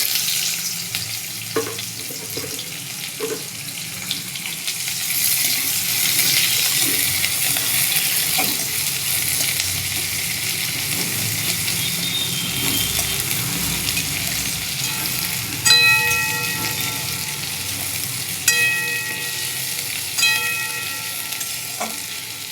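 Onions and bay leaves sizzle steadily in hot oil, a continuous close frying hiss lasting throughout, joined near the end by a few bright clinks of utensils against the pan.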